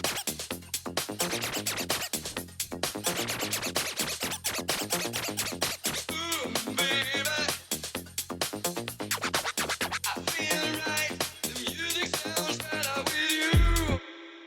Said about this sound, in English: the baby scratch sounds like this